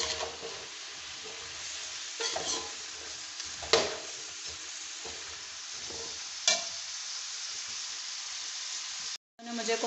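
Grated carrots roasting in oil for gajar halwa, a batch of about five kilograms, with a steady close sizzle and repeated spoon scrapes and clacks as the mixture is turned over.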